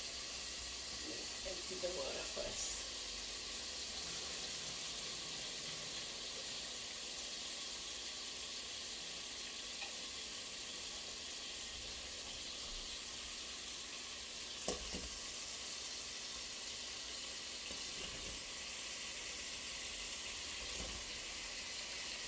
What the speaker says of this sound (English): So I'm going to add in the potatoes